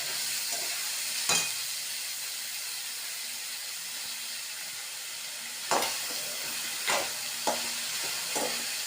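Cooked carrot, beans and peas go into a hot pan of tempered mustard seeds and urad dal, giving a steady close sizzle and hiss with a few sharp clatters from stirring.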